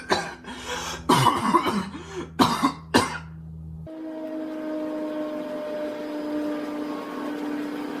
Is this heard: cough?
yes